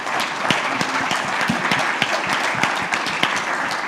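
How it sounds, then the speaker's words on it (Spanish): Audience at an international seminar applauds a legal adviser being introduced, steady dense clapping with distinct individual claps standing out, close and fairly loud throughout. "Aplausos también para ella."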